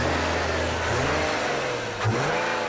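A 2010 Nissan 370Z with a 3.7-litre V6 engine revs loudly and steadily up close, a dense, continuous engine roar with a slight change in pitch partway through.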